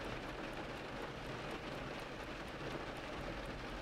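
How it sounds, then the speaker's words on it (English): Steady rain falls continuously with a dense, even hiss and a low rumble underneath, holding a constant level throughout. "the rain seems to briefly up its tempo before resuming its steady rhythm"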